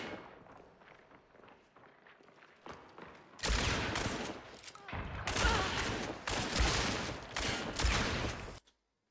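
Shotgun blasts ring out in a video game firefight, first a run of softer distant-sounding shots, then several loud, sharp close bursts in irregular rhythm before an abrupt cutoff.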